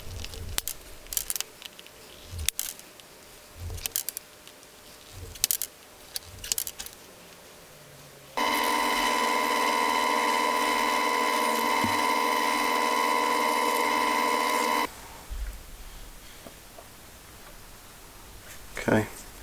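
A power drill bores into a perspex sheet in one sustained, loud high whine lasting several seconds, preceded and followed by scattered handling taps and knocks from the workbench.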